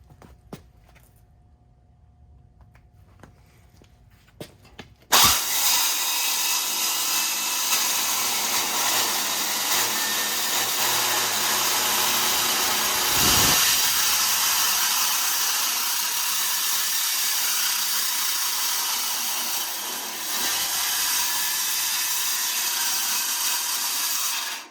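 A power tool cuts through trailer ramp material during a repair, starting abruptly after a few seconds of quiet and running as a loud, steady, close whine for about twenty seconds with slight dips in pitch.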